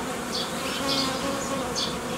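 Dense, steady buzzing of many honeybees around an open hive during colony splitting, a close, continuous drone with no talking.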